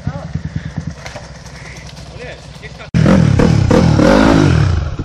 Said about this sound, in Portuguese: Deixa essa moto deslizar, Jorge!